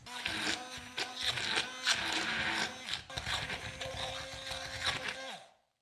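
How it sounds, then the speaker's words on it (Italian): Blender whirring as it blends milk with a pinch of salt for an Easter ring cake filling of spinach and ricotta, a loud continuous mechanical churn with pitch shifts, running steadily for several seconds before cutting off. "Aggiungo un po' di latte dal totale, un pizzico di sale e inizio a frullare."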